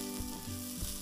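Garam masala, turmeric and other spice powders fry in a pan for pasta masala, giving a steady close sizzle with a low scraping stir sound underneath, no voices.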